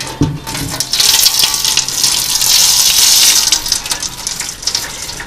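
Water carrying light sediment poured out of a container while rinsing sand, a loud continuous gushing splash that swells and wavers for several seconds before tapering off.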